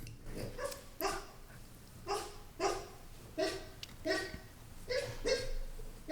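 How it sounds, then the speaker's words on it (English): A dog barking in its sleep lets out a series of soft, muffled woofs and yips at an even pace, about six short bursts, drowsy and low in volume. "No, he's barking his dream."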